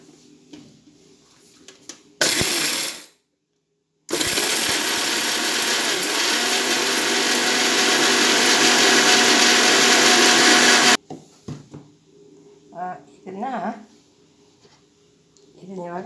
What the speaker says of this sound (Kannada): ಇದನ್ನು ಗ್ರೈಂಡ್ರಿಗೆ ಹಾಕಿ ಚೆನ್ನಾಗಿ ಗ್ರೈಂಡ್ರ್ ಮಾಡಿ